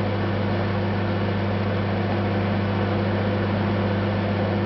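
A microwave oven running, giving a steady, unbroken electrical hum with a low droning buzz and a broad noisy whir throughout, close and moderately loud, with no voices.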